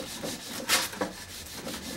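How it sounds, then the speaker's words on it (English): Short strokes of sandpaper rub across a small cane slip being prepared for a reed, a few quick scratchy passes in a quiet room. "I just touched it with, of course, sandpaper to start with"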